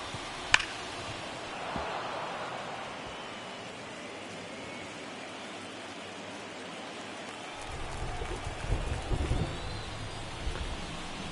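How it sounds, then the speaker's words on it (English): Heavy rain pours over the Philadelphia ballpark in the baseball video game MLB The Show 24, during a Brewers–Phillies playoff game: a steady, even hiss with a sharp click early on and a heavier low rumble building near the end. "Rain really coming down here in Philadelphia."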